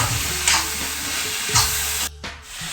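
A sweet evening snack mixture of chickpeas, grated coconut, cumin and sugar stirred in a pan, with two soft scraping strokes over a low steady sizzle, then a brief quiet break.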